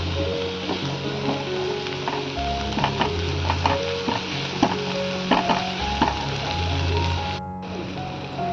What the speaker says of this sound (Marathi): टोमॅटो देखील आपल्याला छान असा परतून घ्यायचा आहे.